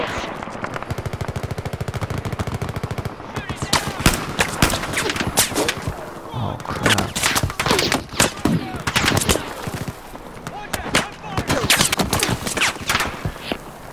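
Gunfire in the video game Battlefield 4: a rapid machine-gun burst opens, followed by dense, loud single shots and short volleys in irregular clusters, with sporadic player voices mixed in.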